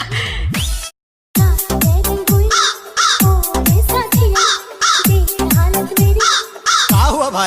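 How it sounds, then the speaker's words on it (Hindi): A crow cawing loudly and close by, a run of about a dozen harsh, descending caws in an uneven rhythm with one short pause near the start. "कौवे का आवाज आ रहा है भाई"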